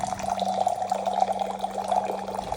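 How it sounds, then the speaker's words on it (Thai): Philips water purifier dispensing a chosen amount of water from its 4-litre tank, a steady close trickle of pouring water with a faint electrical hum beneath, lasting a few seconds. "เราปล่อยน้ำแบบเลือกปริมาณได้ด้วยนะ"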